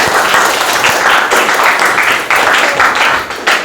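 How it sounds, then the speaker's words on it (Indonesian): Students in a classroom clap for a group, a loud, close burst of many hands applauding continuously with slight rhythmic surges throughout, no speech over it. "Tepuk tangan dulu kelompok 3 dulu."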